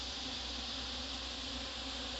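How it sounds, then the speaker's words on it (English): A steady, dense insect hum of many honey bees droning together at a barrel hive's open feeding station, continuous and moderately loud with no pauses or voices. "the bees are busy over here."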